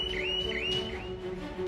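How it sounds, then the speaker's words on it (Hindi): A shop's anti-theft alarm sounds with a high electronic tone that warbles and dips in repeated sweeps, then holds steady over a constant low hum, with no voices. "वहां कोई चोरी का अटेम्प्ट होगा तो अलार्म जोर से बजने लगेगा"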